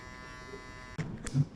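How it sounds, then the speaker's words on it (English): Electric hair clipper buzzing steadily during a buzz cut, its corner used to blend a line between guard lengths; a continuous close hum with brief louder bursts near the end as the clipper meets hair. "you have to know how you use the corner of the clipper"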